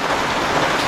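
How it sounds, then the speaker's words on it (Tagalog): Steady rain pours down in Mexico, Pampanga, a dense, continuous hiss of drops hitting surfaces, close and even throughout with no voices. "Umuulan pa naman."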